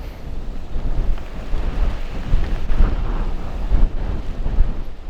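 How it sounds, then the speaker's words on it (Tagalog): Strong wind roars past during a rainy ride home, a loud, continuous low rumble with irregular buffeting gusts against the microphone throughout, no speech. "Grabe yung hangin, no?"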